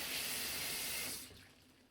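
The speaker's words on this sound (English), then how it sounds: "I rinse off my gloves before I take them off, again, so they won't fling stuff everywhere." Tap water runs steadily into a bathroom sink while dye-covered gloves are rinsed, a loud continuous splashing rush that cuts off abruptly near the end, leaving quiet room tone.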